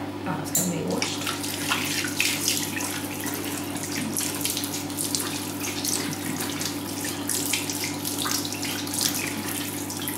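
A bathroom tap running steadily into a sink while the face is washed, a constant rushing splash for ten seconds with small splashes from hands in the water.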